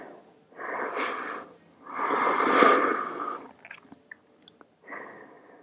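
Deep, slow yoga breaths, close and audible, with long airy inhales and exhales in a measured rhythm, separated by brief pauses and a few soft clicks.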